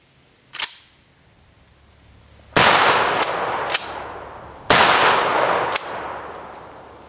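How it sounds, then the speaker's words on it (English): A Winchester 1300 pump-action shotgun fires three loud, sharp blasts outdoors, each with a long decaying echo. A smaller snap comes first, and metallic clacks of the pump action follow the shots. "Today we're going to be testing out Nana's Surefire Weapon Light on her Winchester 1300 pump action shotgun."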